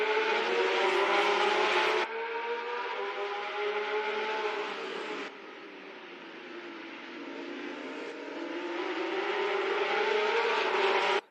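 Race cars in a virtual racing game roar off the start at the Red Bull Ring in Spielberg, Austria, a dense, loud, sustained engine whine that shifts pitch as the pack accelerates, with no talking.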